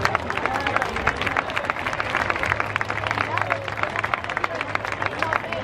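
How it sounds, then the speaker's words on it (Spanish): A crowd at a primary school's fiftieth anniversary celebration gives a strong, sustained round of clapping, rapid and dense throughout, with crowd murmur and a few voices mixed underneath. "Tengo que pediros un fuerte aplauso para todos ellos y su imborrable recuerdo."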